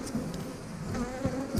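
Bees buzz around an opened beehive during an inspection and feeding, a dense close hum with individual insects droning past the microphone in brief swells.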